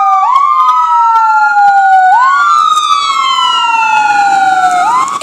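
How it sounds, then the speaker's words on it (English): An American Medical Response ambulance siren wails loudly and close by, sweeping slowly up and down in long rising and falling cycles as the vehicle passes, then cuts off abruptly at the end. "They stop sounding the sirens after they drive by me."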